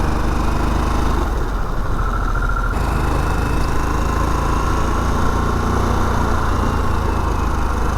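A 2021 Harley-Davidson Sportster S motorcycle engine drones steadily and loudly while riding on hilly, winding roads, a continuous low rumble with heavy wind noise and no talk.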